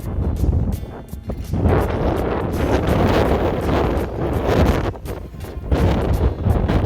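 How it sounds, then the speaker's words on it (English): Strong, continuous wind gusting around 45 to 75 mph roars and buffets the microphone on a mountain crest in the Presidential Range of the White Mountains, with gusts rising and falling throughout and no voices. "That the mountain will shield us from this wind."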